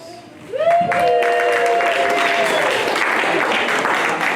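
Audience applause at a public juggling show in Hawaii, breaking out after a brief shout and then holding steady as a dense, loud wash of many hands clapping, with a few voices calling out over it.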